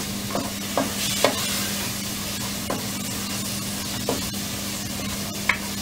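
Spices cooking in a pan with a constant gentle sizzle and hiss, punctuated by occasional soft clicks of a stirring spoon, close-up, with a low steady hum beneath.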